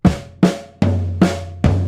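Slow snare and floor tom exercise on a drum kit, five evenly spaced close strokes alternating between the crisp snare and the boomy, sustained floor tom, with no voices.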